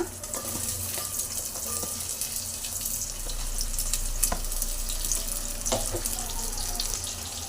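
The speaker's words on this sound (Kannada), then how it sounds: "ಎಣ್ಣೆ ಬಿಸಿ ಆಗಿದೆ ನಾನು ಈರುಳ್ಳಿನ ಹಾಕ್ಕೊತೀನಿ ಇವಾಗ" Onions frying in hot oil for a chicken curry give a steady, moderately loud hiss and sizzle that runs throughout with a few faint clinks.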